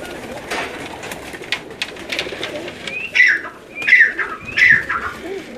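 Pet pigeons on a rooftop in Gujrat coo in three clear, rising calls close by, over a steady bed of softer cooing and rustling from the flock.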